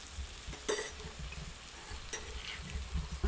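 Cumin seeds sizzle in hot oil as a faint, steady hiss with a couple of soft clinks from a spoon stirring the pan. The sound is quiet, and no one speaks.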